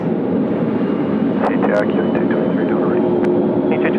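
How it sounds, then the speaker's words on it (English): Broad roar of a Qantas Airbus A330 jet on the runway at Sydney Airport in high wind, a steady loud rumble with wind noise, with speech at times. "Just on screen now, the A330, Qantas 465. Take off runway 25, Qantas 465."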